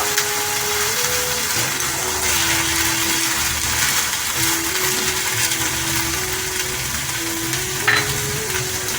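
Soaked whole black mung dal (kali dal) is tipped into a kadai, followed by a continuous loud sizzling hiss and scraping stir with a few faint clinks, over a low steady tone.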